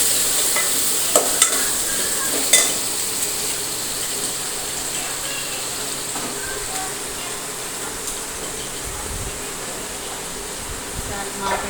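Chopped potatoes with asafoetida and curry leaves stirred in hot oil in a pan, a loud, steady sizzle with a few sharp spoon knocks near the start.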